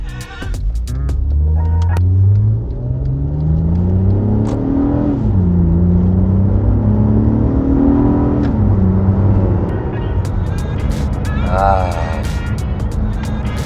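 A Honda-built Acura TL with its J37 V6 pulls hard under acceleration, the engine note climbing in pitch through the gears with a brief dip between shifts, loud and close throughout.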